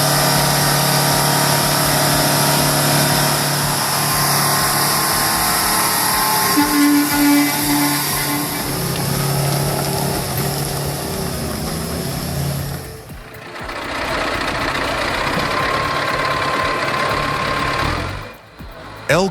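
An Oshkosh M1070 heavy military truck engine labouring on a slippery mountain track, a loud continuous mid-pitched diesel drone with knocking texture, briefly dipping twice before resuming.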